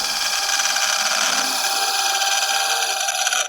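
A thin cut is made in wood, producing a steady, bright, rasping hiss that holds for about three seconds close by before stopping abruptly, with no talk.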